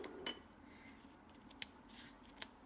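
Old scissors snipping through adhesive in a quiet craft setup: a few short, crisp cuts spaced apart, faint and close, with no talk.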